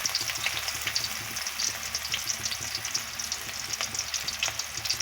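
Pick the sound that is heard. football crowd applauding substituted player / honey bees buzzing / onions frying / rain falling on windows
onions frying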